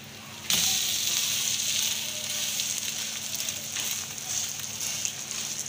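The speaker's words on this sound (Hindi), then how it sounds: "तो एक से दो मिनट के लिए नीचे से फ्राई करेंगे" A potato and egg paratha sizzles steadily in a hot pan, a bright crackling hiss that starts abruptly and continues evenly at close range without talk.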